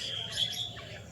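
Birds such as Indian mynas and sparrows chirp in short, high tweets around trees near a house, with a moderately loud, continuous outdoor background throughout the brief moment.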